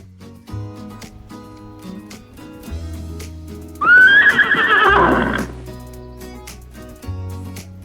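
A horse whinnies loudly for about a second and a half, a bright, wavering neigh rising over a quieter farm background with low ambient tones before and after.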